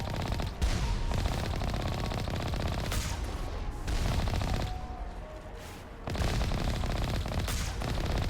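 Cannons fire in the video game Mass Effect Legendary Edition, loud sustained bursts of rapid gunfire in several long volleys separated by short lulls.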